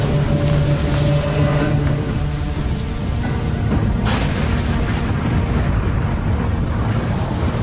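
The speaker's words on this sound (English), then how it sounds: "Blast tears a massive chunk of kimberlite and granite from the pit" A mine blast in an open diamond pit, tearing kimberlite and granite, rolls out as a deep, sustained boom and lingers as a broad rumbling roar, with a sharper crack partway through, loud and continuous.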